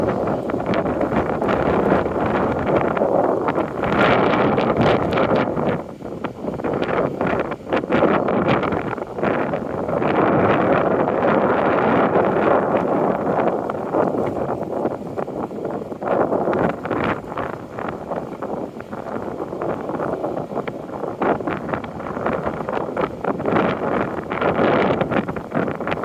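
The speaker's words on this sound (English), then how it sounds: "It's very windy here." Strong wind buffets and roars continuously at close range on a street in Dartmouth, gusting and rumbling throughout with no voices.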